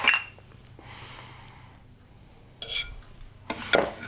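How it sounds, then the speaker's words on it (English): Dry breadcrumbs and spices, including garlic powder, onion powder and smoked paprika, stirred together in a bowl for chickpea patties, with quiet scraping and a few brighter clinks of a utensil against the bowl near the end. "I just want to mix this together real good. Get those spices mixed into the breadcrumbs."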